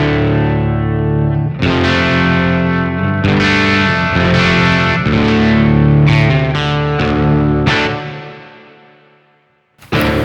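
Guitar run through a Meris Mercury X modular reverb on a plate preset, a sustained chorded passage with bodied, modulated reverb tails swelling and decaying, fading to near silence before a final loud strum near the end.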